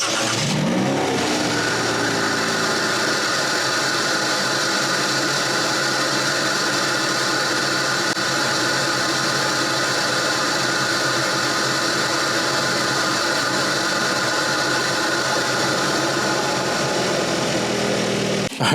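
A 2022 Hyundai Kona N engine breathing through a K&N intake revs steadily for the whole stretch, a loud, sustained mid-pitched engine roar with induction noise close by and no talking.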